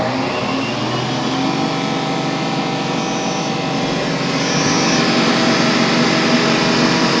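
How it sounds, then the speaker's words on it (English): A CNC milling machine whirs loudly and steadily during a tool change to a much smaller cutter, a close mechanical drone with a faint whine that shifts slightly toward the end. "Tool change is swapping around now to a much smaller"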